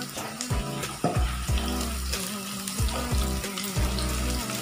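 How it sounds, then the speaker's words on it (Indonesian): Sliced shallots and garlic sizzle and fry in hot oil in a pan, a loud, steady crackle broken by repeated scraping stirs at a regular rhythm, close up and with no talking. "kita menumis bawang merah dan bawang putih yang sudah diiris tadi"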